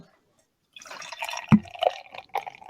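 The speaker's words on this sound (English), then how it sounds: "So let's crack this thing open because I'm thirsty. Oh, that's a good sound." A can of oatmeal IPA beer cracks open with one sharp pop, followed by a short fizzing hiss and a few liquid splashes, close and fairly quiet.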